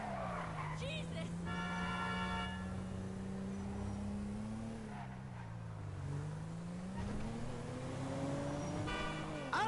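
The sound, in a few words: car driving and skidding in a video game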